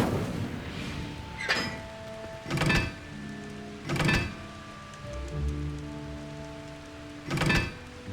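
The Incendio fire spell is cast again and again in Hogwarts Legacy, each cast a short whooshing burst with a thump, about five in a row at spaced intervals, over a soft game ambience.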